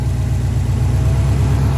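A 2004 Subaru STI engine idles steadily just after an oil cooler install, a close, even low rumble that holds without revving for the whole stretch.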